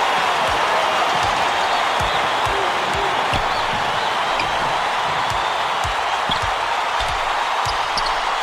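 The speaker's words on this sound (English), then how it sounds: "This crowd couldn't be any happier." Packed basketball arena crowd at an NCAA Tournament Elite Eight game between Wake Forest and North Carolina, roaring and cheering in a steady, loud wash with repeated ball bounces thudding underneath.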